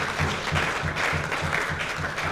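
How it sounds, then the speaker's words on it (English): An audience at a Plan International Ghana event in Ashaiman claps for women farmers. The applause is brief and moderately loud, with a rhythmic low thumping beneath it. "let's clap for the women farmers"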